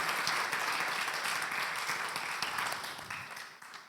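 A church congregation at a Spirit-filled worship service breaks into strong, sustained applause, a dense wall of many hands clapping together that tapers off slightly near the end.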